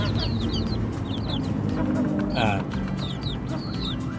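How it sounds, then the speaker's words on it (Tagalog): Mixed chickens, including heritage breeds, cluck and squawk repeatedly over a constant low background noise, with a louder squawk in the middle. "Meron dyan mga heritage chicken"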